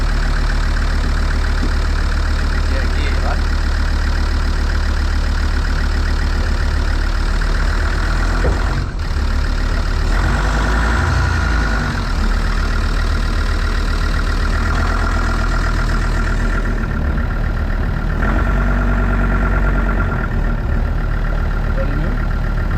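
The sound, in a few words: car engine idling and moving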